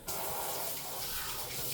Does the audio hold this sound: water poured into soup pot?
yes